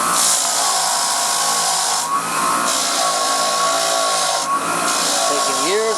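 Wire brush scrubbing years of heavy rust off old nuts and bolts, a steady loud abrasive whir running continuously with two brief dips in intensity.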